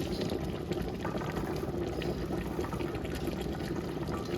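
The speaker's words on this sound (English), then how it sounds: "Add the vinegar." Vinegar pours into a pot of homemade salsa in a farm kitchen, a continuous close, splashy liquid stream lasting a few seconds with no pause.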